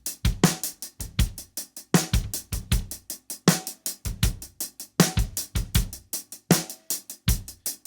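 Drum groove processed with a vintage-style EQ for an old-school feel in a sample remake: steady looping kick, snare and busy hi-hat hits, with a thin, low-end-light tone and no voices.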